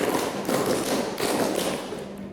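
A group claps in unison during a call-and-response clapping game, producing a few dense, sharp taps close by with no talking over them.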